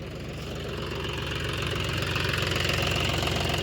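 A diesel vehicle engine runs steadily after about an hour and a half of driving, a close, loud, continuous low rumble with a fast knocking pulse that swells slightly toward the end, with no voices.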